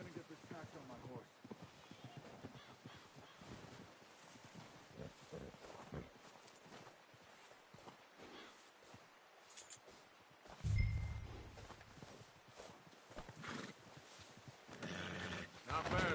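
A horse in Red Dead Redemption 2 on PS5 neighs once, loud and close, partway through, with hoof clops and a steady game-like background throughout.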